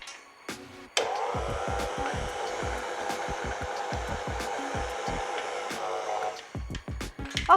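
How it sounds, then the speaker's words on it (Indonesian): A stand mixer kneads eggless pandan bread dough, running with a steady close motor whir for several seconds after a few knocks, with soft thumps and clunks of the dough slapping around the bowl. "Nah, kita mix lagi sekitar 7 menitan atau sampai, pokoknya nanti sampai kalis"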